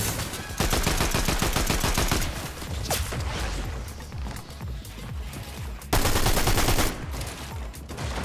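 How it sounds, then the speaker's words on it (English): Rapid gunfire crackles through a Fortnite battle, dense bursts of shots and sharp reports piling up continuously, with a couple of louder blasts standing out. "Now we are getting sniped at, huh?"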